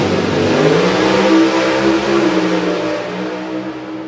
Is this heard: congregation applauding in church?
no